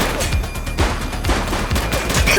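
Rapid gunshots in the police video game The Precinct, a dense volley of sharp cracks filling the moment loudly and continuously, with no talk over it.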